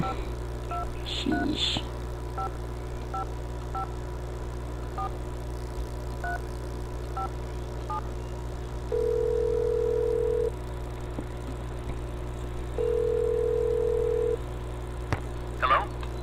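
A telephone in a Nancy Drew game is dialed, a string of short touch-tone beeps, followed by two long steady tones of ringing over a constant low hum, with a brief spoken exclamation.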